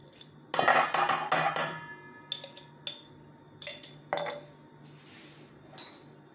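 A bowl or terrine is picked up and set about a kitchen counter, giving a quick burst of hard clinks and clatters followed by sparser knocks and taps, close and distinct against a quiet background.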